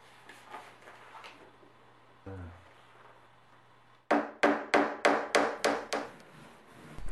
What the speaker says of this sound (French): je prépare des petites baguettes que je vais coller et clouer sur les bordures du coffre